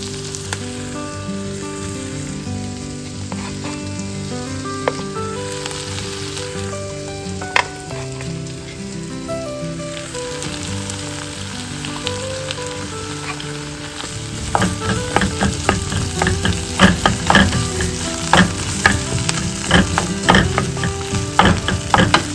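Okra pieces dropped into a pan with softened onions fry with a steady sizzle. It swells into dense, loud crackling and popping about halfway through, over a faint tonal hum.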